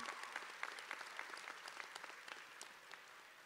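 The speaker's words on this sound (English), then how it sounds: "Y'all can clap for them." A graduation ceremony crowd claps for faculty and staff, a steady, fairly distant patter of applause that holds evenly throughout with no talking.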